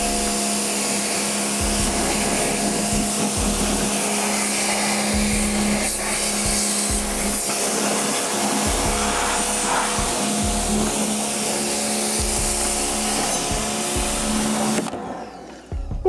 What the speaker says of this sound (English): Just blow them away with the pressure washer.